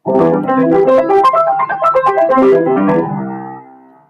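Piano arpeggios played in flowing groups of three notes, bright and continuous with a ringing sustained tail fading at the end; no voices.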